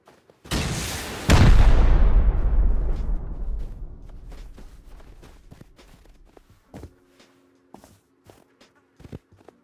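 Rocket blasts in the survival game Rust, two heavy explosions in quick succession, the second louder and booming, then a long rumbling decay with scattered small clicks and footsteps afterward.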